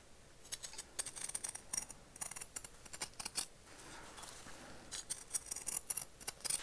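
Scissors trim fabric close to a shirt collar seam, quiet, crisp snips in short irregular bursts with brief pauses between them, recorded close up in a hushed room.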